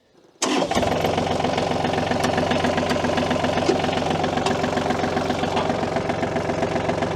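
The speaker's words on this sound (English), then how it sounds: "let's hop up on the tractor, get it fired up" A tractor engine cranks and fires up abruptly, then settles into a loud, steady, rhythmic idle with a knocking diesel-like chug that continues without a break and no talking.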